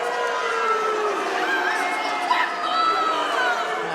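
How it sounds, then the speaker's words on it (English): Spectators at a super-welterweight boxing title fight react with displeasure, a steady mass of jeers and chatter that rises and falls over the full stretch, with a few whistle-like calls standing out above the general din. "the crowd don't like it"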